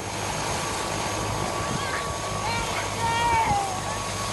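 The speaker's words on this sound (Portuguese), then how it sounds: "O helicóptero da Sejusp foi até a localidade para realizar a prisão" A police helicopter of the Sejusp flies over a rural area during an arrest, a steady rotor and engine drone throughout, moderately loud and constant, with faint voices under it.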